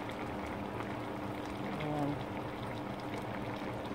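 Pork liver adobo simmering in a pot gives a steady, dense bubbling hiss that stays even and close throughout, with no talking over it.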